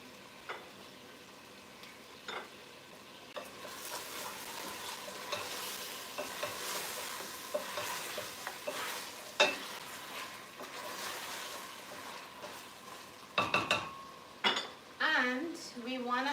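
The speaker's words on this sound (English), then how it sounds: "to the chicken that's frying up" Chicken sizzles steadily in a hot pan while a utensil scrapes and stirs, with occasional clanks of metal and a voice speaking near the end.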